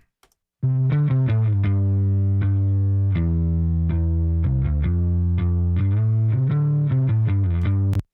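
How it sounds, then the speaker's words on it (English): An electric bass with saturation and chorus effects playing a melodic line, thick and gritty with saturation and a shimmering chorus, sustained notes heard alone. "In solo, you will hear the saturation."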